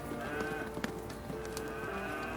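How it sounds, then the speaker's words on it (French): Dairy cows moo in an open grassy pasture, a low drawn-out lowing call heard at moderate distance amid faint ambient noise, with no speech. "des vaches heureuses et du bon lait"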